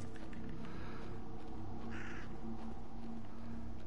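A crow caws in the video game Kings of Lorn, a harsh call around the middle set against dense, constant ambient game noise.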